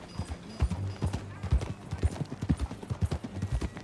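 Horse hooves clip-clopping in Red Dead Redemption 2, a steady, fairly quick rhythmic gait of close, distinct hoof strikes, moderately quiet with faint background sound.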